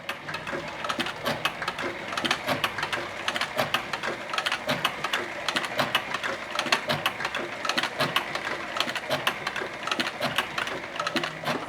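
A sewing machine stitches through a leather canteen with a steady, fast mechanical chatter of needle strokes, close and loud, running continuously with no talk.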